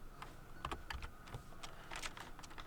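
Someone types on a computer keyboard with quick, light key clicks in irregular bursts, faint and close, with no talking.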